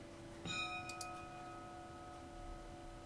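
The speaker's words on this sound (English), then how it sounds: "That is a bell." A single bell chime rings out on a computer during a Blender lighting and rendering session. It is one soft ding whose tone lingers and fades over a faint steady hum, with no talking.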